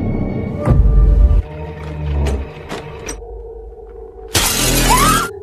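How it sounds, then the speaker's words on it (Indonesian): Glass shatters loudly as a man smashes through a door pane to force his way into a house in the horror film Moloch (2022), a heavy crash followed by debris and eerie tonal sounds, then a second loud burst. "Dia berusaha membuka pintu dan memecahkan kaca agar bisa masuk."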